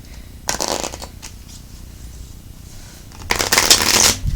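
A Moonology oracle card deck being shuffled close up, one short riffle followed by a quieter pause and then a longer, louder burst of shuffling near the end.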